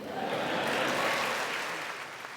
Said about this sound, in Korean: 화기애애한 분위기 속에 박수갈채가 60번, 이 가운데 기립박수가 26번 나왔고